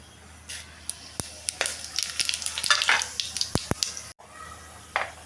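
Cardamom, cloves, peppercorns and cumin frying in oil for vegetable pulao, crackling and spitting densely up close, with frequent sharp pops and ladle taps against the pan.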